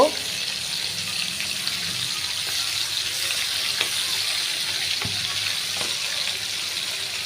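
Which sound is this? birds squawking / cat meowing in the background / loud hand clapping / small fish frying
small fish frying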